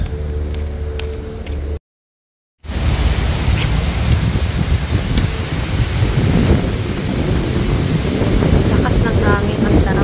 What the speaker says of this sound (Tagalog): Lakas ng hangin, ang sarap.